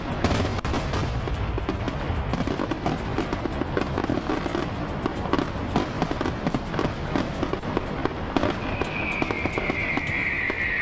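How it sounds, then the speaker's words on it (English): Fireworks exploding in the Construction Simulator video game make a dense, loud, continuous crackle of rapid pops and bangs, with a rising whistle near the end. "At least the fireworks still worked."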